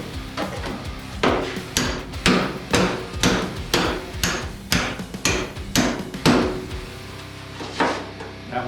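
Sharp hammer blows strike a panel splitter cutting through the steel body panel of a Foxbody T-Top coupe, a steady series of roughly a dozen loud metallic impacts close by, no speech.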